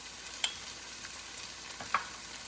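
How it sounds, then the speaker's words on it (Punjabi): Spices and masala frying in a pan for a Punjabi-style lamb curry, a faint steady sizzle with two small scraping stir sounds, no talk. "ਇਹ ਸਾਰੀਆਂ ਚੀਜ਼ਾਂ ਨੂੰ ਆਪਾਂ ਚੰਗੀ ਤਰ੍ਹਾਂ ਭੁੰਨ ਲੈਣਾ ਮਸਾਲਿਆਂ ਨੂੰ"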